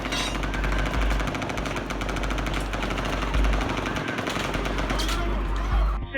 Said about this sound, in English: When shots rang out at the Route 91 Music Festival, all those who could ran for their lives.